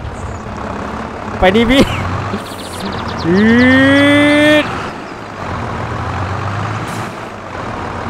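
Ford farm tractor engine running steadily while pulling a small e-taek farm vehicle stuck deep in mud, a continuous low drone with a whining tone rising mid-clip, voices talking over it.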